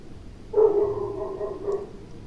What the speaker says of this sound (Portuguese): se vocês escutar cachorro latindo, me perdoe. É o cachorro da vizinha aqui que não cala a boca.